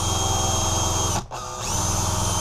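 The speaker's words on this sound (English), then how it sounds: "I'm going to go ahead and drill it out as deep as I can now." A power drill drills out a stripped screw, whining steadily at high speed, briefly bogging down and dipping in pitch before spinning back up.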